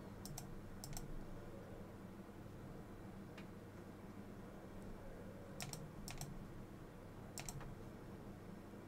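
Computer keyboard typing in a JavaScript coding session, a few quick clusters of sharp key clicks scattered over steady low background hum, fairly faint with no talk.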